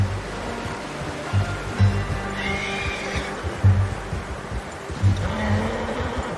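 A horse whinnies twice in Red Dead Redemption 2 over a steady rushing background, the calls fairly close and clear.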